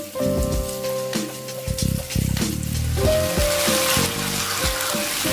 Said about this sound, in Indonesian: Aduk-aduk oseng-oseng dulu sampai ayam filet matang.